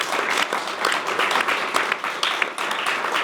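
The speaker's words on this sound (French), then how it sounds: "donc on peut applaudir encore Pierre Gentillet" Studio audience applause after a guest is introduced on a French political talk show, a dense, steady patter of clapping that carries on evenly for a few seconds with no break.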